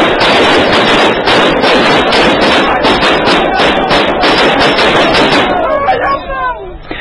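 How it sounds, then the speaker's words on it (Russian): Rapid bursts of gunfire from police shooting into the air at the Beslan school siege in 2004, a dense run of sharp cracks over roughly five seconds, loud and close, mixed with crowd noise and shouting voices before tapering off. "правоохранительные органы открывают стрельбу в воздух для того, чтобы не допустить самосуда"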